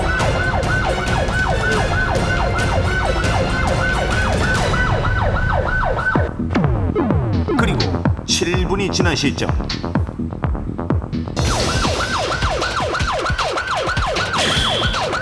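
A fire engine races out on an emergency call, its siren wailing loudly and continuously with rising and falling sweeps that shift in pattern midway, while a narrator speaks over it.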